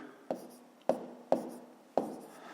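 Pen writing numbers on paper for column multiplication, four distinct close scratchy strokes spaced about half a second apart, quiet and alone.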